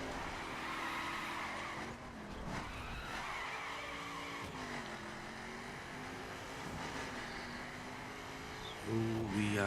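Tires skid and squeal as a car is thrown sideways with the handbrake in the racing game The Crew, a continuous loud screech over engine roar, with sliding pitch sweeps throughout.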